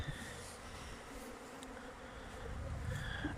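Honey bees buzz around a Warsaw widened-type hive during a full spring cleansing flight at an apiary, a dense, steady hum from many insects, close and continuous without speech.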